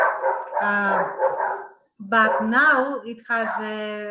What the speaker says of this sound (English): excuse my dogs as usual